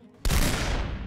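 A single sharp, heavy blast from a grenade launcher firing in the space RPG Between The Stars, sudden and loud, then a broad rumbling decay.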